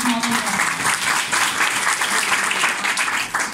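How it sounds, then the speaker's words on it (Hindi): A church congregation claps together at a Christian preaching service, a fairly loud burst of applause with a voice speaking over it. "ताली किसके लिए?"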